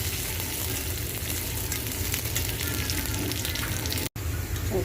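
Onions fry in a large iron wok with a steady, close sizzle, and a brief gap near the end.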